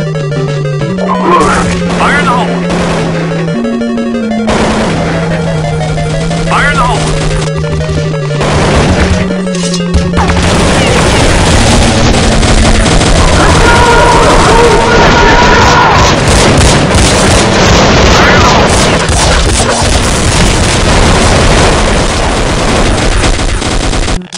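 Repeated grenade explosions and heavy gunfire in a Counter-Strike 1.6 zombie escape match form a loud, dense barrage of bangs and crashes, with game voice lines and sustained tones running through it.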